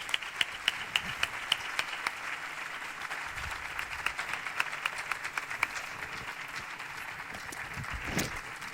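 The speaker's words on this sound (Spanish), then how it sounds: "así que recibámosle con un fuerte aplauso como él se merece" Audience applause fills a lecture hall welcoming a speaker to a talk on Cádiz, a steady dense wash of many hands clapping at moderate distance that holds for the whole stretch with a slight swell near the end.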